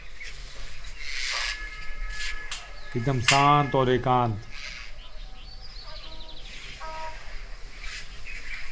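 Faint birds call at dusk in the hills of Mukteshwar near Nainital, thin chirps scattered in the background beneath someone speaking in a quiet outdoor setting.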